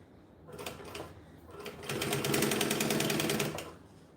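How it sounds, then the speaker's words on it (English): Sewing machine chain-sewing bonded nylon fabric, running in short bursts and then one longer steady run, close and loud with no talk. "we're going to chain sew them because chain sewing makes me happy"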